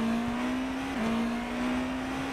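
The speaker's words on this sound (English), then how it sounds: "we've got to oblige him here by riding on board and hearing that Porsche" Onboard Porsche GT race car engine at Spa-Francorchamps, a steady high drone held at constant revs with a brief dip near the middle, loud and close with no voices.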